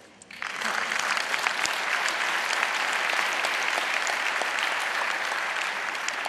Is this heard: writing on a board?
no